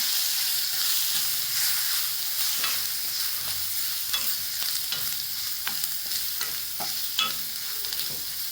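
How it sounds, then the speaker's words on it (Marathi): Garam masala and chilli powder sauté in a pan for a cluster bean dish, a steady close sizzle punctuated by repeated scraping taps of a spoon stirring, with no one talking. "गरम मसाले एक चमचा चांगल्या परतून घेऊ आता"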